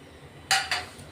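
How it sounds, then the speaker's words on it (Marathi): Drumstick pods drop into a pot of hot water with two quick clinking splashes close by, the first louder, against a quiet kitchen background. "तर मी इथं 2 ते 3 ग्लास पाणी गरम ठेवलंय, त्याच्यात आपण आता शेवगा टाकून घेऊ।"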